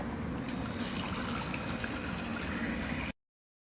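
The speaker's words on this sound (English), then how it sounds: "And the water just runs like on a battery." A battery-powered toy play sink runs water in a steady trickle, a continuous close splashing dribble that fills the clip alone before stopping abruptly near the end.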